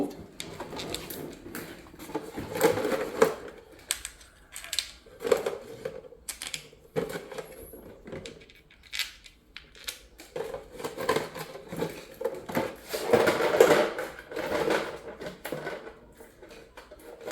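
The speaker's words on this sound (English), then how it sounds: "there we're going to put in all the bolts" Bolts being fitted back into a Toyota Valvematic engine cover: faint, irregular metallic clicks, taps and light clattering spread across the span, some in quick clusters, with quiet gaps between.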